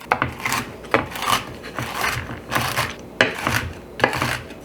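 A knife chops pecans on a cutting board for a gluten-free pecan pie, giving irregular bursts of close, crisp chopping strokes with short pauses between them.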